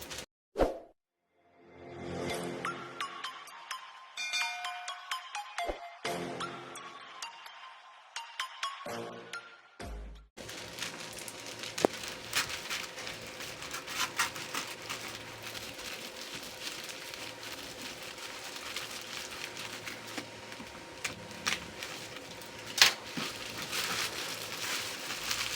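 A package of online-ordered tools being opened, with crinkly plastic rustles and handling knocks in bursts at first, then softer scattered taps and rustling over a faint steady background.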